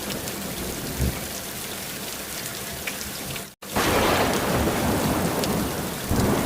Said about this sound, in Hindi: रात में अचानक तेज बारिश होने लगती